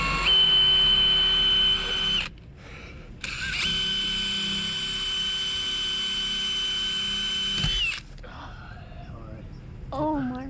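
A power drill bores into a door lock in two long runs with a steady high-pitched whine, a short pause between them, then a voice talks afterward over faint rattling.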